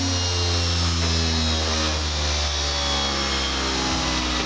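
A homemade grinder and disc sander motor runs on a Variac, a loud, steady electric whine with strong tonal hum, continuous and close, with no voices over it.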